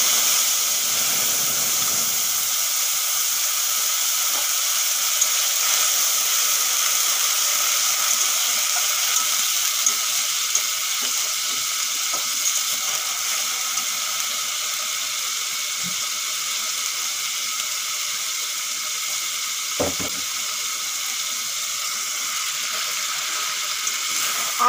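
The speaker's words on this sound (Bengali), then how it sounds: "আদা, রসুন, টমেটো ভালো করে ভাজা হয়ে গেছে।" A paste of ginger, garlic and tomato fries in a pan, giving a steady, even sizzling hiss that runs on without a break, with a few faint clinks.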